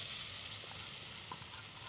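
Food fries in a pan with a steady, close hiss and sizzle and a few soft crackles, continuous and fairly quiet throughout.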